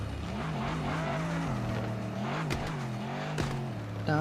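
A car driven in the mobile game Car Parking Multiplayer, a steady engine drone with shifting pitch and brief tire-skid bursts, loud and continuous without talk.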